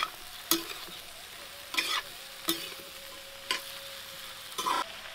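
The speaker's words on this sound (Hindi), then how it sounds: "अब अच्छी तरीके से इसे चला देती हूँ" Capsicum, peas and potato stirred and fried in a pan: a steady faint sizzle with repeated sharp scraping strokes of a spoon coming every second or so, close up and with no voices.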